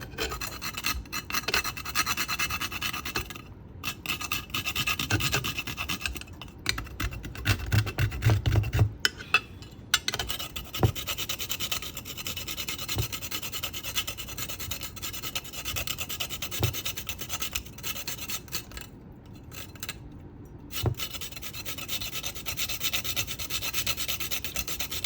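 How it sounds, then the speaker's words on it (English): Whole nutmeg is rasped against a grater in a home kitchen. The scraping runs steady and close for the full length, with brief pauses between strokes. "Gonna grate my nutmeg in here."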